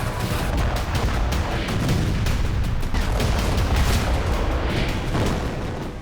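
Explosions and fire after a drone strike on a fuel-carrying train in the city of Salsk, a dense continuous roar of booms and cracking blasts, loud throughout.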